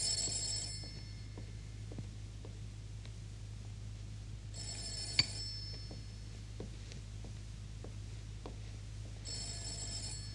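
An old telephone bell rings in an Italian 1978 television drama, three long trilling rings separated by pauses over a steady low hum in a quiet room.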